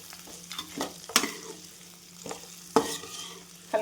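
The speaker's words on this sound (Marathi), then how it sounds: "तर चवीनुसार मीठ आणि एकदा छान आपण याला परतून घेऊया." Potato rice with salt is stir-fried in a pan, with a quiet sizzle under a series of sharp scraping and tapping strokes from a spatula, several spaced louder clacks.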